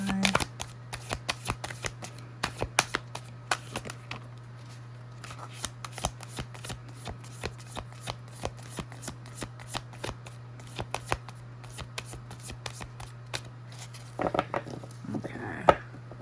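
Tarot cards shuffled and dealt by hand in a quiet room, with soft repeated riffling and flicking over a low steady hum, plus light taps as cards are laid down.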